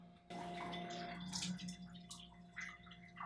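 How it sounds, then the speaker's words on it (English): Dark walnut dye bath is poured through a strainer to catch the walnut pieces, a soft steady trickle and splash of liquid heard close and quiet, with no talking. "I'm just going to strain out the pieces of walnut from the walnut dye bath"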